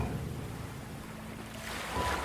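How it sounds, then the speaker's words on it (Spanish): Ocean waves and sea wash, a steady broad rushing wash that swells slightly toward the end, with some wind noise and no voices. "El sonido de las olas será tu guía."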